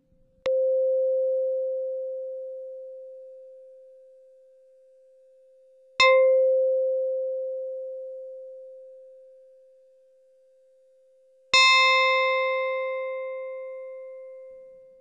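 Steady FM synthesizer tone with an unchanging sustained body at one pitch, struck three times at even intervals, each note starting with a bright metallic attack that fades into the held tone, alone and clear.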